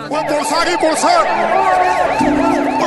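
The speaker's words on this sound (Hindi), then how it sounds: "पर थोड़ी दूरी पर जाने के बाद इनको सुनाई देता है पुलिस का सायरन" Several sirens wail together, loud and close, their pitches sweeping up and down over a layered, continuous drone.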